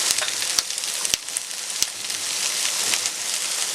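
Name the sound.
onions sautéing in a pan with pork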